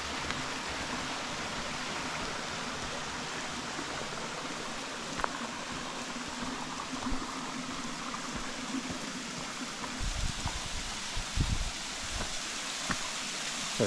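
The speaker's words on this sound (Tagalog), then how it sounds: "nandito tayo sa falls" Steady broadband rush of a waterfall, with constant roaring water noise filling the scene and a few faint low thumps and splashes near the end.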